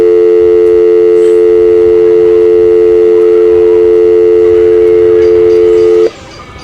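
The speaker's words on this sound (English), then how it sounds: "Please leave a message after the tone." A steady, loud electronic phone tone from the Fatal Frame 5 video game holds unbroken for about six seconds, then cuts off abruptly, leaving quiet background.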